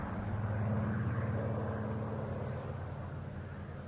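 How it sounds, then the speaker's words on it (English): A Supermarine Spitfire PR19, a late-mark photo reconnaissance Spitfire, flies at an air festival, giving a steady, fairly faint engine drone with a low harmonic rumble that eases slightly as it moves away. "the Spitfire repositions for its solo display"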